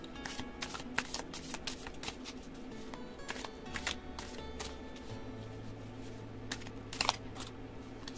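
Tarot cards being shuffled close by: a steady run of soft, rapid riffling flutters and slaps, quiet against a low background hum.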